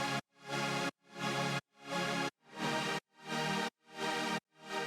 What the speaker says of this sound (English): Which is just a pretty dark pad with an LFO on top with shaper box.